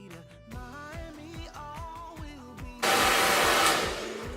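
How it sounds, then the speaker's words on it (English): A VS Sassoon digital sensor hair dryer switches on partway through, a loud, steady rushing blast of air that holds for the last couple of seconds, after a stretch of background music. "You can tell that is a really powerful blow dryer and it's actually getting through my hair really quickly."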